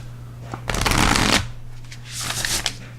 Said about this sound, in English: shuffling this deck, kind of a little bit difficult